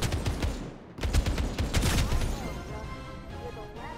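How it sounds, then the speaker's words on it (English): Rapid gunfire in a Final Fantasy VII The First Soldier battle royale match, a burst of sharp shots clustered around the first two seconds, then a fading tail of lighter crackle. "Why you start shooting?"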